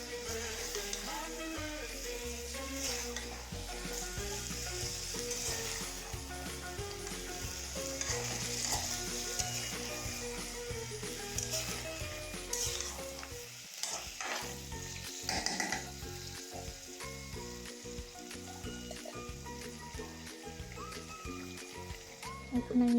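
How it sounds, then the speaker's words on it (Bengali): Chicken curry masala stirred and fried in a pan, a loud continuous sizzle with repeated spatula scrapes and clanks throughout, close and busy. "এখন আমি ভালোভাবে নাড়াচাড়া দিয়ে মিশিয়ে নেব মশলাটাকে"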